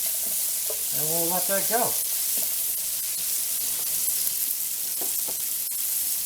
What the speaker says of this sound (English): I don't want this too hot because I don't want to burn the bacon.